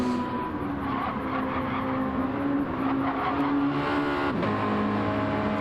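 A Group A race car brakes hard into the final turn, its engine note dropping with a tonal whine and tire squeal, then revving back up, heard close and loud.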